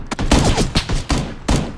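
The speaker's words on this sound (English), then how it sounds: "Derek, did you just shoot Steven?" Gunfire in a multiplayer squad shooter video game: several loud, close shots in rapid bursts roughly every half second, sharp and punchy with brief reverberant tails, no talk over them.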